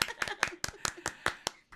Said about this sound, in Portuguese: Palmas pro Jonathan.